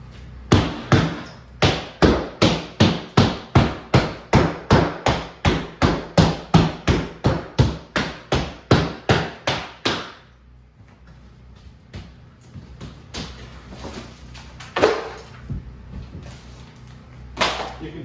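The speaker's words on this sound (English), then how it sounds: "Hammer." Steady hammer blows strike in a quick, regular series for about ten seconds, then stop, leaving quieter scattered knocks and handling noise.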